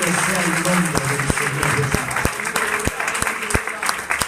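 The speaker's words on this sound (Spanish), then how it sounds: "Un fuerte aplauso para el Señor Jesús en este momento." Clapping from a congregation during a Spanish-language church service, a steady wash of hands mixed with voices, with sharp individual claps standing out in an uneven rhythm and music or speech tones underneath.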